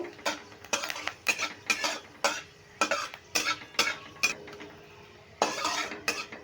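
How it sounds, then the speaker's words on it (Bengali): Panch phoron whole spices are stirred and fried in a pan for a pumpkin and tamarind sour dish, with rapid repeated scraping and clinks of a metal spatula over a light sizzle, close and busy with a short pause near the end. "ফোড়নটা খুব ভালো করে নেড়ে ভেজে নেব"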